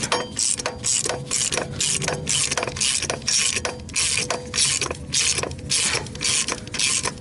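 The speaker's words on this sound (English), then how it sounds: "I'm doing it by hand with a short ratchet." A short hand ratchet turns a 3-jaw gear puller during an NSRT4 engine teardown to remove the balancer, giving rapid repeated clicking strokes up close with brief pauses and no voices.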